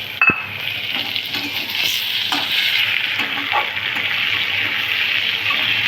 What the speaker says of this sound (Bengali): আমি এর মধ্যে একটু টমেটো কুচি দিয়ে দিচ্ছি।